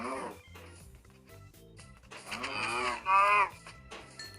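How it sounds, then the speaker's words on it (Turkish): A cow in the Minecraft video game moos twice, a short low call followed by a longer, louder one, over faint rhythmic in-game tapping and no speech. "Aa inek. İnek etin lazım."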